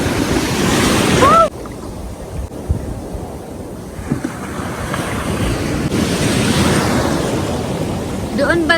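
Ocean surf rolls in at a surfing site in Eastern Samar, a steady roar of breaking waves with gusty wind buffeting the microphone throughout, louder at the start and swelling again near the end.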